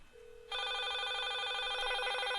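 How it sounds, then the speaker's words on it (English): A secondhand Cisco IP phone rings close by, a steady electronic trilling ring that starts sharply and continues without pause, loud and alone. "That is the sound of a garage sale IP phone."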